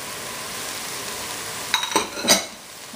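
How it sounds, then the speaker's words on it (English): Scallions, thyme and parsley being stirred into a crawfish fritter mix, heard as a soft background hiss broken near the end by a few short scraping, clinking strokes of a utensil in the bowl. "I'm going to give that a nice little stir."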